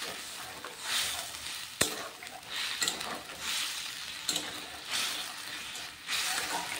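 Water poured into a pan of frying egg and potato curry brings bursts of loud hissing sizzle that rise and fall several times, with sharp clicks of a spoon stirring close by.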